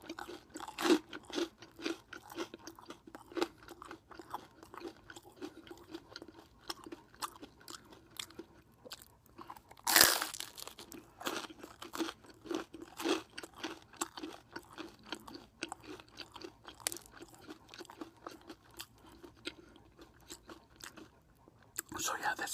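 Close, soft crunching and chewing of English muffins topped with butter, cinnamon and sugar, with irregular bites running throughout and one louder crunch partway, while a person talks quietly between mouthfuls.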